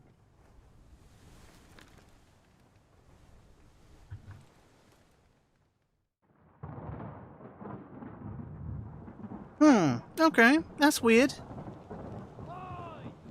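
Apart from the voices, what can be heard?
thunderstorm in the video game Return of the Obra Dinn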